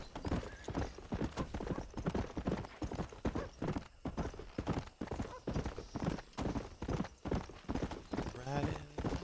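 Horse hooves clip-clop in a steady trotting rhythm in the video game Red Dead Redemption, with a whinny near the end and voices talking over the hoofbeats.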